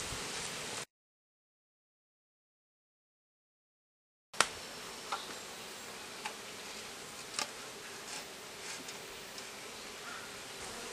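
Honeybees buzzing around hive frames while a queen-rearing cell starter is stocked: a steady, close insect drone that returns after a break of silence, broken by a few light clicks and knocks.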